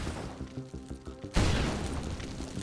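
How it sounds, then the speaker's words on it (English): In the video game Moros Protocol, a kicked barrel sets off a sudden loud explosion after a stretch of rattling game sounds, followed by a sustained rumbling, crackling tail. "well, geez, there's even more explosions"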